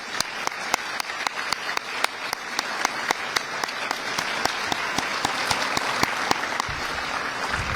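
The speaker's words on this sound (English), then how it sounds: "Let's give them all a big round of applause." Audience applause for officials at a Raleigh and Wake County public event, a sustained round of clapping with some sharp individual claps standing out, steady and close, with no talking.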